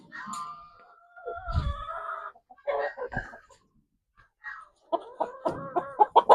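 Chickens and roosters on a poultry farm cluck in close, uneven bursts, with short squawks and a flurry of rapid clucks building toward the end; no one speaks.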